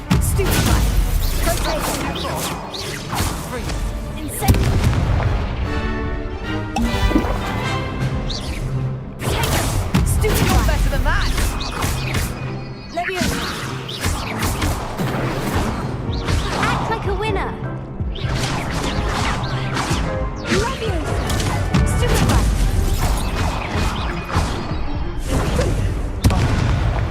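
Spell blasts and explosions rumble through a Hogwarts Legacy battle as steady loud booms, whooshes and crashing impacts, with voices calling out over the fighting.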